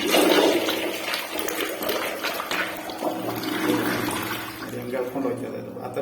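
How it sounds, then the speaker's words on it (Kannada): A commode toilet in a newly built bathroom being flushed, a loud rushing gush of water that swirls and drains away over several seconds while someone talks over it. "ಫ್ಲಶ್ ಮಾಡಿ ತೋರಿಸ್ತೀನಿ ಕಮೋಡಲ್ಲಿ."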